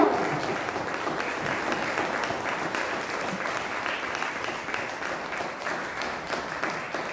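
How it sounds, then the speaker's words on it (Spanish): A church congregation gives a long, steady round of applause, dense and even throughout, with faint voices mixed into the crowd noise. "denle un fuerte aplauso al Señor"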